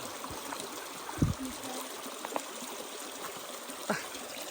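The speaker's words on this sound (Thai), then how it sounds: "ช่วงนี้น้ำตกสวยมาก น้ำใสสะอาดมากๆนะ" A forest waterfall stream near a border jungle trail flows and trickles with steady, moderate wash, with a few brief knocks and thumps on top and no speech.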